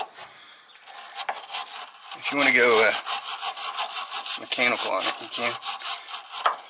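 A small hand wire brush scrubs the spindle of a 1966 Mustang, rasping in quick back-and-forth strokes that come in bursts, close and fairly loud, with someone talking between and over the scrubbing.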